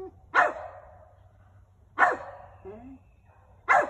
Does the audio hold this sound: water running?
no